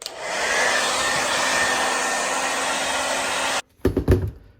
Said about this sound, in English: you can blast it with a hairdryer to make it dry faster